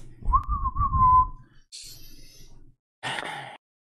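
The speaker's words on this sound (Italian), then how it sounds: "E se ne va fischiettando, fischiettando per la sua strada." A single person whistles a short tune up close, a wavering melodic line lasting about a second, followed by brief breathy noises.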